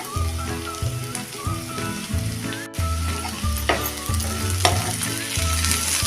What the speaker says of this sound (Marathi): टोमॅटो पण आपण चांगला मऊ पडेपर्यंत परतून घेऊया।